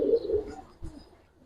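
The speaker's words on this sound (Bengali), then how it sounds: "খুব সুন্দর ভাই কবুতর দুইটা" Giribaz colouring pigeons give a short pair of soft, low, throaty coos, close and clear with nothing else heard.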